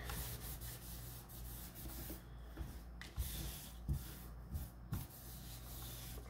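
A glued paper tag piece being rubbed down by hand on a card-making project, giving a soft, continuous rubbing and scuffing sound with a few brief louder strokes near the end, close and quiet.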